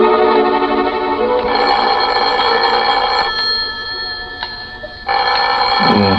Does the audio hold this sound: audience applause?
no